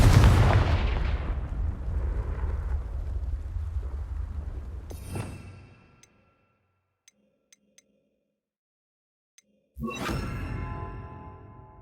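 A Confringo blasting spell in Hogwarts Legacy, a loud booming explosion that fades out over several seconds, followed by a quiet gap with small ticks before another sharp blast bursts in.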